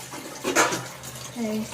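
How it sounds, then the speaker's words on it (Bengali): Splashing water as prawns are rinsed by hand, with a brief louder surge of sloshing midway and a faint voice toward the end. "চিংড়ি মাছটা ধুয়ে নিচ্ছি আমি"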